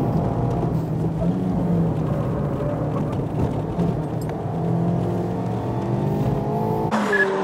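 A race car runs a timed lap during a driver audition, its engine droning loud and steady with shifting pitch, ending in a sharper burst near the finish.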